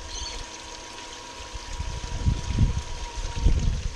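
Water trickles and gurgles nearby outdoors, a steady wash with a faint tonal hum and irregular louder splashy bursts toward the end.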